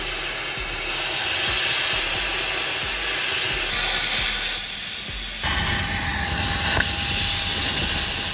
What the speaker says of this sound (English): Nathan's bringing out the big gun. Plasma cutter.